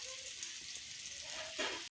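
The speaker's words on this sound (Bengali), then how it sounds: "উচ্ছেটা ভাজা হচ্ছে।" Sliced bitter gourd fries in a pan in a home kitchen, a steady close sizzle with hissy crackle that continues throughout before cutting off abruptly near the end.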